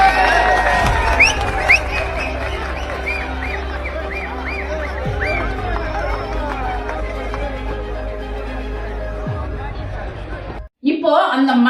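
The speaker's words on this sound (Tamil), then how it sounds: "கைத்தட்டி வரவேற்பாங்க." A large outdoor crowd at a tense gathering where police are holding people back cheers and claps in welcome, a loud, continuous roar of voices and hand claps with shouts rising over it, cutting off abruptly near the end.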